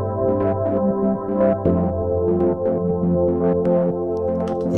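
A dense, buzzing synthesizer tone whose texture pulses in a steady rhythm from modulation by a function generator, sustained continuously with no voices.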